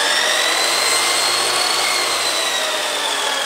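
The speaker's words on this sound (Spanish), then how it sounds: "Un taladro para batir la masa." An electric drill whips dough as a kitchen mixer at home, giving a steady, loud whirring whine with a gritty, scraping edge that runs without a break.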